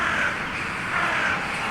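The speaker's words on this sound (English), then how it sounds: "The ravens were an omen, a circling unkindness, black wings and cheerless cries" Ravens give harsh, cheerless caws over a dense ambient wash in the Strange Antiquities game, two rasping calls a second apart and fairly close, with no talking.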